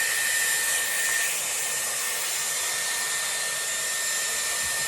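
A Dyson Airwrap styler blow-dries hair through a round brush, giving a loud, steady, close airflow whoosh with a faint high whine that holds evenly from start to finish, with no talking.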